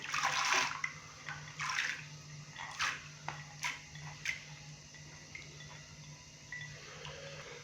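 Water and lentils are tipped into a cooking pot, giving several short pours and splashes with hard little clicks and rattles of dry grains landing, spaced out and close.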